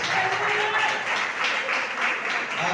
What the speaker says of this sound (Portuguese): vamos aplaudir o Senhor Jesus pela sua palavra